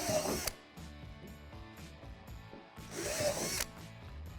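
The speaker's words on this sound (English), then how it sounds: "drill out the 3 divots at the top of the slide" A power drill bores through plastic divots on a play tower slide during assembly, with two short loud bursts of drilling separated by quieter mechanical rattling.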